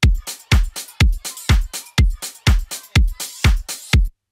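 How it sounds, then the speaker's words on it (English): A punchy electronic drum loop repeats at a steady, driving tempo: a heavy kick on each beat with bright clap and hi-hat hits layered over it, loud and close. "I quickly made this drum loop,"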